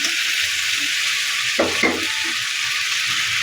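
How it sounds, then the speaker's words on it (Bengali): Pieces of katla fish fry in spiced oil with lemon in a pan, giving a steady close hiss and sizzle that briefly flares louder as something is stirred or added, with no talking. "তেল লেবু দিয়ে একটু নেড়ে চেড়ে নিলাম এবার মাছগুলো দিয়ে দেবো"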